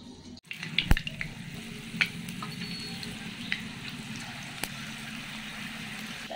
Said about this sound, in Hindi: मैं पकौड़ी छानना स्टार्ट करती हूँ।